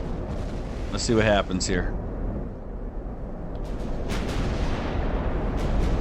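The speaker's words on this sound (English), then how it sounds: "He's got 11-inch guns." Heavy naval gunfire from 11-inch battleship guns in Ultimate Admiral: Dreadnoughts, deep booming blasts rumbling under a voice, with a few sharper cracks and splashes later on.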